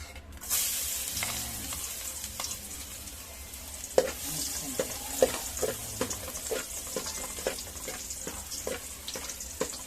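Garlic dropped into hot cooking oil, a bright hiss that settles into steady frying, with intermittent clicks and scrapes of a utensil in the pan, close and moderately quiet without talk.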